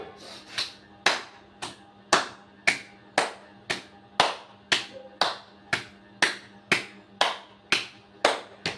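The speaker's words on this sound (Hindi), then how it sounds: "इसे ताली मुद्रा कहते हैं।" Hands clap in a steady, evenly spaced rhythm during a taali mudra yoga exercise, roughly two sharp claps per second, close and crisp, continuing throughout with no speech.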